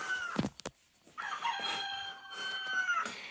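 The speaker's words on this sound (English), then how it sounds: "even if you cock-a-doodle-doo, we still love you." A rooster crows loudly and close by. A couple of sharp knocks come first, then a long, strained, wavering crow carries on to the end.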